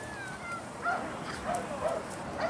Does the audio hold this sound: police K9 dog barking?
yes